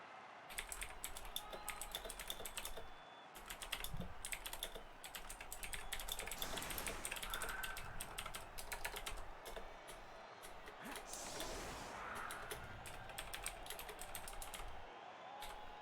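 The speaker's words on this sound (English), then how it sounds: "sorry if I was typing there or you could hear me typing" Rapid clattering keystrokes on a computer keyboard run nearly continuously, close and fairly quiet, with short pauses and bursts of faster typing throughout.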